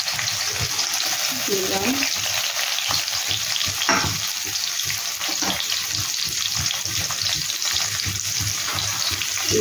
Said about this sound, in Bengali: নারকেলটা এবার তেলে দিয়ে ভেজে নেব।